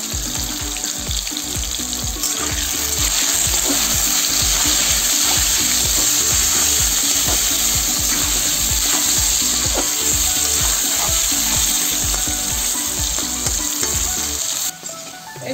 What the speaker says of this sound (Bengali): এই যে আমার আলু কটা লাল লাল করে ভাজা হয়ে গেছে